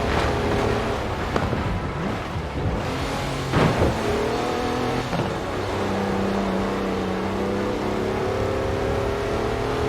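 Car in Forza Horizon 4 accelerating uphill toward the top of Arthur's Seat, a sustained engine drone that climbs through gear changes with a few sharp shifts, moderately loud, with no speech.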